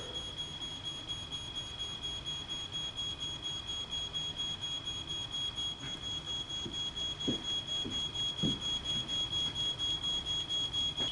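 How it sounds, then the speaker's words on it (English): A smoke alarm on a house's second floor sounds a piercing, unbroken high tone that holds for the whole stretch over low background noise and a few faint knocks. "The smoke alarm on the second floor now activates."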